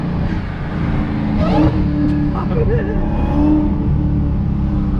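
Loud exhaust on a 2020 Dodge Challenger Hellcat Widebody Daytona rumbling and popping as the engine downshifts, with a brief rev and people talking close by over the noise.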